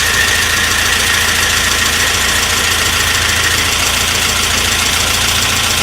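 1992 SAAB Turbo engine that had been sitting in a tree row, running with a loud, steady, broadband roar and rough mechanical clatter, close up and continuous, no talking.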